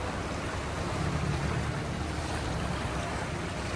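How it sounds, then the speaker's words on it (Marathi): A boat pushes through choppy waves between two rocks off Malvan, giving a continuous, even wash of water and engine noise with no voices. "आपली बोट चाललेली आहे या 2 खडकांच्या मधून. मध्येच आपली बोट अशी हालते आहे"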